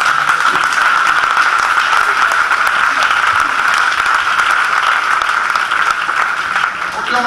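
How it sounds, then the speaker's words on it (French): Sustained applause from a conference audience fills the room, dense and loud throughout with no pauses. "Est-ce qu'on va acclamer encore?"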